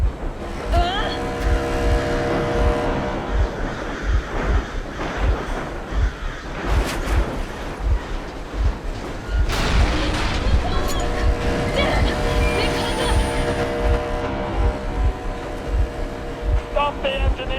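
In the video game Metro Exodus, a vehicle engine runs with a steady, rhythmic low throb and an unbroken mechanical drone, while a loudspeaker voice and other voices speak over it.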